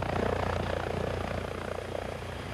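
A tilt rotor aircraft's rotors and engine drone in a steady, loud, throbbing beat, the rapid blade thumps running evenly throughout with no voices.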